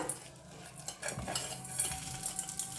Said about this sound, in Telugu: ఆనియన్స్ కూడా వేసుకుని ఇట్లా మిక్స్ చేసుకోండి